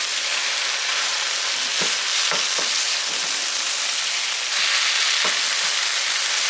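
Sausages frying in a pan at breakfast make a loud, continuous sizzle with scattered spits and pops and a few brief scraping stirs, heard close up with no voices.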